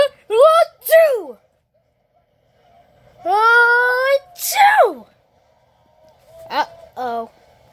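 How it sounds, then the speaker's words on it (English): A cartoon character from Happy Tree Town sneezes in an exaggerated, voiced way, with short squeaky vocal bursts and a drawn-out windup before the sneeze, close and loud against silence. "Sneeze one!"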